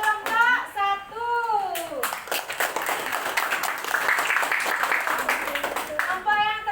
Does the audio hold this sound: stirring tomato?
no